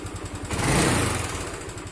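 A carbureted motorcycle engine revs briefly and quickly drops back to a steady idle, heard close and fairly loud with no talking over it.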